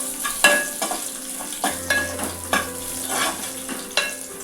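Crushed onions fry and sizzle in a pan while a utensil stirs them, scraping against the metal in uneven strokes over a steady hiss.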